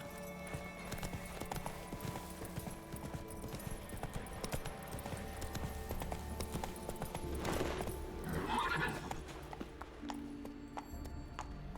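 Geralt's horse gallops in The Witcher 3, with fast, rhythmic clip-clopping hooves running throughout at moderate volume, a brief whinny-like snort partway through, and in-game ambience underneath.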